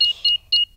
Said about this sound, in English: Switch the alarm back on.